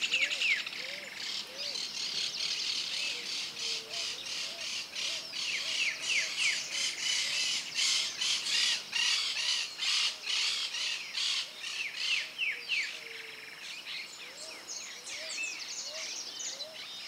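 A bird near its nest, close to a wasp nest, calls in repeated sharp chirps and harsh squawks in a quick, uneven series lasting the whole stretch, fairly near and clear over faint outdoor background.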